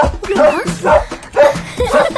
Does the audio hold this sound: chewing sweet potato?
no